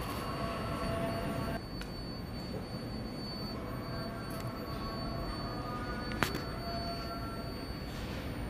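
A New York City MTA Brooklyn-bound F local subway train rumbles steadily on the track, with faint metallic squeals and a sharp clank partway through, and no voices.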